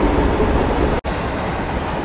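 Freight train overtaking a Garib Rath Express on a parallel track, a loud continuous broadband rumble and rattle of passing wagons close by, with a brief dropout midway.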